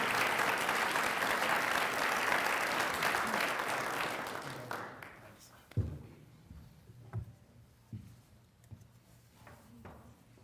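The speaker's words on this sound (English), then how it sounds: "How about a round of applause for Brian Hendrickson?" Audience applause at a university research lecture, loud and full for about four seconds, then fading out into scattered claps, thumps and light room noise.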